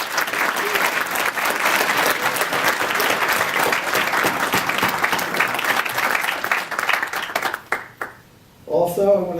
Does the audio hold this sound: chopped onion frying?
no